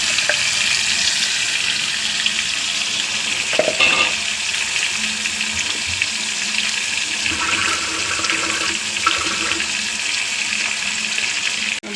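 Coarsely ground garlic paste fries in hot oil with mustard seeds for a garlic gojju, giving a loud, steady sizzle and crackle throughout, with occasional stirring scrapes and no voices.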